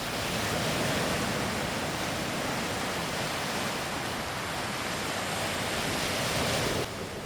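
Sea waves on the open Sea of Japan coast at Cape Peshchurov in Vostok Bay, a dense, steady roar of surf under foggy, damp weather, continuous and full with wind noise mixed in, no voices.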